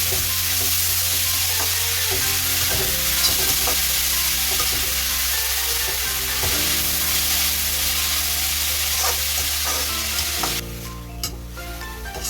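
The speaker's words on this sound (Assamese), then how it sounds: "এতিয়া গাজৰখিনি ঢালি দিলোঁ, পিঠা গাজৰখিনি। এতিয়া ইয়াত ভালকৈ ভাজিম।" Grated carrots frying in a pan for carrot halwa give a steady, close sizzle with occasional stirring scrapes, continuing alone and easing slightly near the end.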